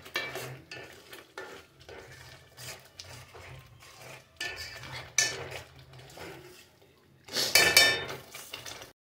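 A 1 kg batch of fish kulambu is stirred in a pot, with intermittent scrapes and metallic clinks of the spoon against the vessel and a faint sizzle between strokes, close up and without speech.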